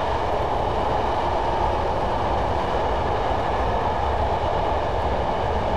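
Class 111 diesel multiple unit coasting with power off in Train Simulator, a steady rolling rumble and wheel noise on the rails, continuous and fairly loud with no talking.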